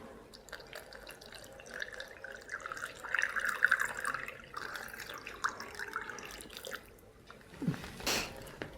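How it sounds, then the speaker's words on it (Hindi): Hot water runs and splashes into a bottle, a steady trickling pour that rises and thins with a brief louder gush near the end, no voices. "हम एक ये बॉटल लेंगे और इसमें गर्म पानी भरेंगे"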